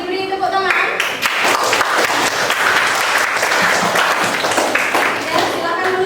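A classroom audience claps for a student group after a presentation, steady dense applause filling the room for about six seconds, with a few voices mixed in.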